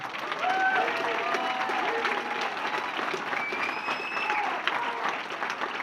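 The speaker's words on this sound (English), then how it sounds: "let's keep the round of applause going for his inductor tonight" A hall of fame audience applauds an inductor for a Murray State inductee, with steady, dense clapping from a large crowd filling the hall and a few faint whistles riding over the sustained ovation.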